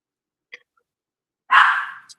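A puppy gives one short sharp bark after a faint tiny yip, then a soft trailing sound, close and otherwise quiet.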